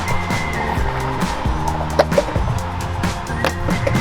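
A skateboard rolls over pavement with a steady grinding rumble, punctuated by a few sharp clacks and bumps, close and fairly loud with no talk.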